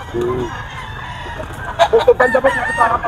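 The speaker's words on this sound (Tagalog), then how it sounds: "Bull stag na po dito mga kayami, oh, kay Boss Jojo" A bull stag gamecock crows nearby at a busy rooster market, with loud, rhythmic cock-a-doodle bursts toward the end and people talking around it.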